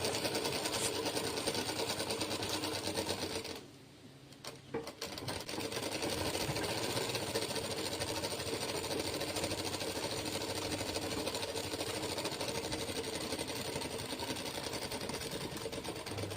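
Domestic sewing machine stitching a blouse hums in a fast, continuous mechanical whir, close and steady, pausing briefly for about a second before resuming at the same even pace, with no talk.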